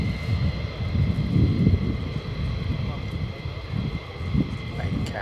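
An F-15 Strike Eagle fighter jet at RAF Lakenheath gives a steady, rumbling engine roar, with wind buffeting the microphone and a person talking over it.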